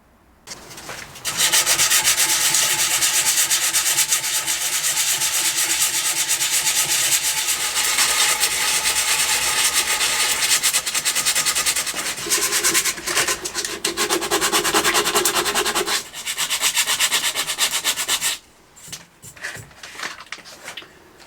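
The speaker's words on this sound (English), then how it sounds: "So these little bits here, I'll just give them a sand because they're not too bad." Sandpaper rubbing rust off a Givi 1185FZ rear luggage rack from a Honda CB650R, loud and continuous scraping strokes for most of the stretch, with a brief pause and a few lighter strokes near the end.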